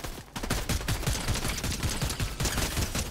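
A turret in Fortnite fires in a rapid, continuous volley of close, loud shots that run without pause for about three seconds.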